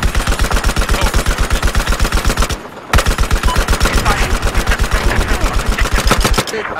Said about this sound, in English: West of your location, there's a hostile machine gun.